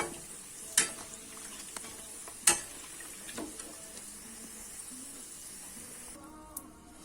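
Pork skin chicharon frying in hot oil gives a steady soft sizzle and hiss, broken by a few sharp pops and crackles spread unevenly through the stretch.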